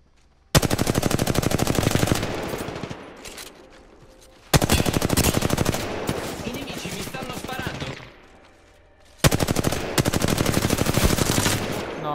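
Automatic weapon fire in a first-person shooter with an R301 rifle, coming in three long loud sustained bursts of rapid shots separated by brief pauses, with talk in the background.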